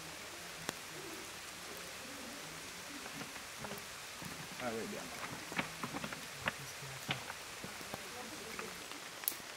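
Steady rain pattering on surfaces with scattered drips, while someone speaks briefly and quietly in French, outdoors while suspended in a climbing harness.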